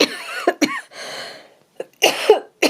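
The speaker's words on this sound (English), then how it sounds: "excuse me, I'm still coughing." A person coughs several times in close, loud bursts, harsh and raspy with short gaps between them, in a quiet indoor craft setting.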